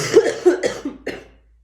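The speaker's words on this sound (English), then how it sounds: "Sorry about the coughing, guys." Four harsh coughs in quick succession, close and fairly loud, each shorter and weaker than the last, then silence.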